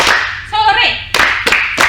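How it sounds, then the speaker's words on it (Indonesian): Three quick, sharp hand claps from a classroom of students responding on cue, following a teacher's spoken word. "Kalau ibu bilang pagi, kalian tepuk 1. Kalau siang itu tepuk 2. Kalau sore itu tepuk 3."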